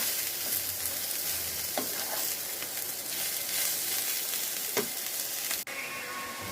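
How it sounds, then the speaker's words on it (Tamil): Steady sizzling of ridge gourd peel sautéing on low heat in a pan, with occasional scrapes and stirs, close and continuous throughout. "5 நிமிஷம் ஸ்லோவில் வச்சு வதக்கினா போதும்."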